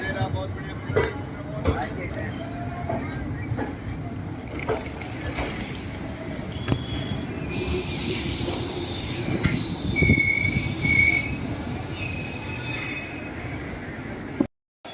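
Ranikhet Express (15013) pulling out of a station near Jodhpur, with steady rumbling of rolling wagons and wheels, occasional clanks and a rising squeal, heard up close with background noise throughout.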